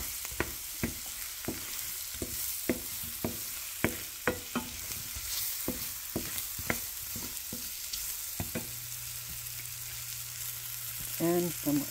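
Ham and mushrooms sauté in a pan for an omelette, giving a steady sizzle and frying crackle broken by frequent clicks and scrapes of stirring, with no talk.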